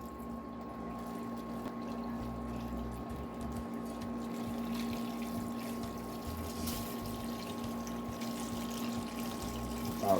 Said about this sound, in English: We're gonna go ahead and we're gonna pour some water in here.